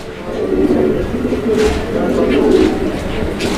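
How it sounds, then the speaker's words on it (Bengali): Lahori pigeons coo in low, throaty rolling calls, close and fairly loud, repeating throughout with some background chatter. "এখানে আরও এক জোড়া লাহোরি কবুতর আছে"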